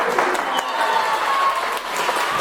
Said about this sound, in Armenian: ընտանիքի համար մեր ծափողջույնները